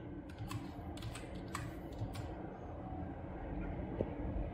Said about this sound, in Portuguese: Caso você queira uma senha, você digita a senha